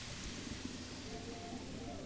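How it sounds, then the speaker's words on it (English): Steady rainfall in the medieval city-builder Manor Lords, a dense even hiss of drops with faint low rumbles beneath, continuous and fairly loud throughout. "The rain is quite nice."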